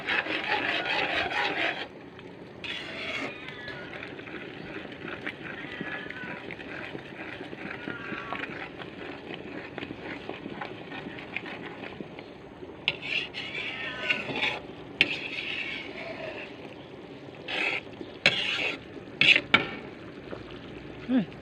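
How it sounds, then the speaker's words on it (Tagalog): Spaghetti is stirred and tossed in a pan, with continuous rubbing and scraping of a utensil against the metal, interrupted now and then by sharper clanks near the end, close and fairly quiet with no talking. "Let's mix it well."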